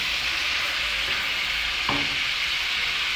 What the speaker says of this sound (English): so we're gonna put in our onion. We're gonna put in our onion like that, and then we go in with our veggies.